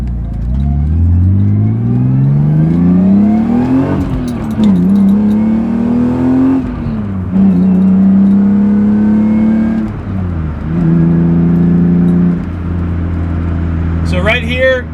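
A BMW E36 M3 Laguna Seca accelerates hard from inside the cabin, its engine note climbing through several gears with brief dips at each shift, loud and close, with a person talking over it.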